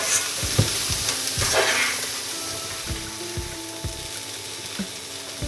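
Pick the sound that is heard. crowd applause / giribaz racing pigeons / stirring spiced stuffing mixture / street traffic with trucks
stirring spiced stuffing mixture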